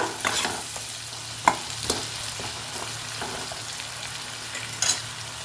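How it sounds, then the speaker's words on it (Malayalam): Spice powders stirred in a pan while cooking ellu manga, a traditional sesame and mango dish, with a spoon scraping and clicking against the pan in irregular strokes over a faint sizzle, close and alone with no talking. "നന്നായിട്ട് ഇളക്കി കൊടുക്കുക."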